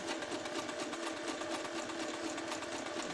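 Sewing machine running a narrow zigzag stitch to attach ruffle elastic, a rapid even close-up chatter of stitching that continues steadily throughout.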